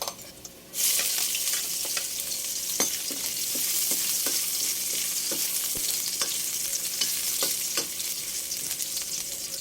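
Garlic and ginger fry in hot oil in a pan for a Filipino squid sauté, a steady loud sizzle crackling throughout, punctuated by small spatters and occasional spatula taps, with no voices.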